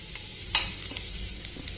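Tempering seeds crackle and sizzle in hot oil for a bitter gourd (boda kakara) curry, a steady close frying hiss with a sharp pop and light spattering ticks, no voices.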